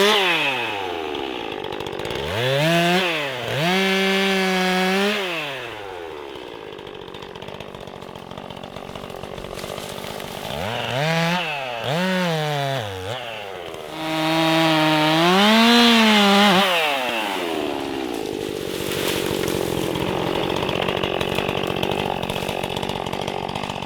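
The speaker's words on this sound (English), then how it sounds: "a 261 is a fantastic saw with a 16-inch bar and a" A Stihl 261 chainsaw with a 16-inch bar and full chisel chain cuts wood, its engine rising and falling in three loud, close revving bursts with steady running between them.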